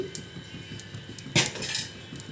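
A metal kadai pan is set down on a gas stove with a single sharp clank amid faint kitchen clinks.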